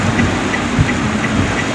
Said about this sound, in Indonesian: cuaca sekarang hujan deras guys